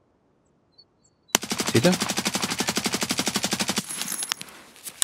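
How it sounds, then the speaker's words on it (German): A long, rapid automatic burst of gunfire from Escape From Tarkov, loud and close, lasting a few seconds and ending in a trailing echo. A voice speaks briefly over it. "Ich hab voll auf ihn geschossen."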